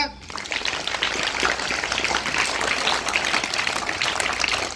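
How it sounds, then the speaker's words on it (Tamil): Sustained applause from a gathering at a police officer's school talk, honouring a student, dense and steady throughout with a few voices mixed in. "அவனுக்கு பெரிய கைதட்டல் கொடுங்க"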